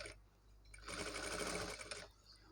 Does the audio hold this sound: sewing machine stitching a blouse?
yes